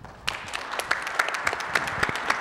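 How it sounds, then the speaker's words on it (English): Audience applause at a Native American presidential forum, a round of rhythmic clapping that starts abruptly and holds steady, moderately close, with no speech over it. "So let's give them one more round of applause"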